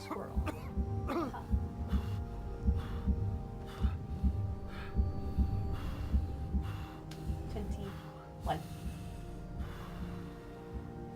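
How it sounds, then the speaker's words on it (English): A character's heartbeat in the video game Expedition 33, a steady low thumping pulse repeating through the whole stretch alongside soft coughs and throat-clearing sounds, with a faint background hum and no talking. "What's with this guy's heartbeat?"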